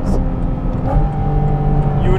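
A Porsche GT4 RS race car engine screams at high revs toward its 9,000 RPM redline, a loud, steady, close mechanical wail with a voice speaking over it.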